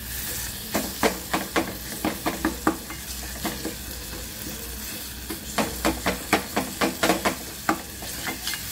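Whole garam masala spices fry in hot oil, a steady sizzle broken by rhythmic bursts of stirring and scraping in the pan, close and fairly loud.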